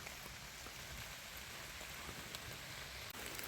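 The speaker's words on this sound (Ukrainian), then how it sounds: "все ж таки дощ" Rain falls steadily in an autumn forest near a river, a continuous soft patter and hiss that stays even and fairly faint from start to finish.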